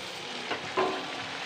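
A rolled luchi flatbread slipped into hot oil, a soft steady sizzle that jumps into a sharper burst of frying near the end of a brief moment, close and moderately loud with no talking.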